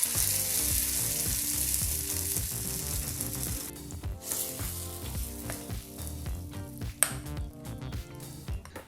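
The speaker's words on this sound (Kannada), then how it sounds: "ಒಂದು 30 ಸೆಕೆಂಡು ಈ ರೀತಿ ಫ್ರೈ ಮಾಡಿಕೊಂಡ್ರೆ ಸಾಕಾಗುತ್ತೆ" Curry leaves tempering for chutney sizzle and fry in hot oil in a pan, a loud, continuous crackling hiss with light stirring scrapes and a small metallic ping near the end.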